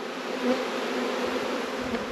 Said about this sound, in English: That swarm was in there, scooped a few bees out, threw them there